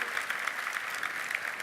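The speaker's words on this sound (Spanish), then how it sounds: "les pido un aplauso" An audience at a seminar gives a short round of applause. Dense, even clapping continues throughout at moderate volume.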